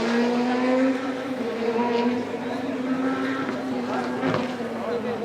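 Rally cars on a stage of the Rallye Sur do Condado at Salceda de Caselas pass with a steady droning engine note, rising and falling as they go by, while spectators talk nearby.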